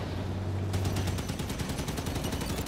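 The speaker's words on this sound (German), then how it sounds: "Der Ding schießt hier auf mich." Rapid enemy gunfire in the video game Halo 5 Guardians, a dense volley of regular sharp shots over a steady low hum, loud throughout.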